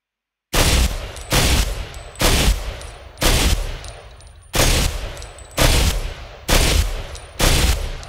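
Eight evenly spaced bursts of gunfire from a weapon in Ghost Recon Phantoms, each a loud, sharp cluster of shots with a decaying tail, firing alone with no talk.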